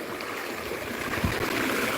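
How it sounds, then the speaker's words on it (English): Water gushing steadily from a leaking water pump during installation, a continuous close rushing flow like a small river, with a brief low thump midway and no talking. "here is like a proper river, but the water is going out"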